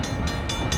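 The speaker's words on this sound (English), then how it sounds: "Got the train coming." A coaster train runs along its track at Six Flags Fiesta Texas, near the Dr. Diabolical's Cliffhanger construction site, as a brief, steady, loud rumble with faint rhythmic clatter.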